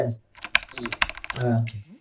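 Rapid keystrokes on a computer keyboard, a quick run of sharp clicks close by, with a voice humming or speaking over the later part.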